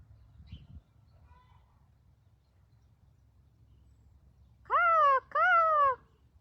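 Two harsh, harmonic caws from a crow or raven ring out near the end, loud and fairly close and one right after the other, over a faint low background hum.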